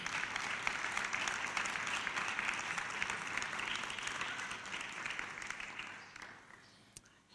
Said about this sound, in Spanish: ¿cuánto le dan un aplauso al Señor a esta hora?